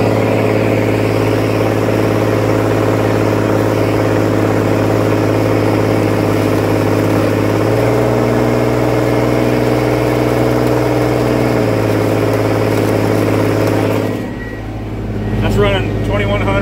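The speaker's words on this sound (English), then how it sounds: "I'll give you guys a listen to the tractor." A tractor engine idles loudly and close by, a steady low droning hum with a step in pitch partway through, before it cuts away to quieter sounds.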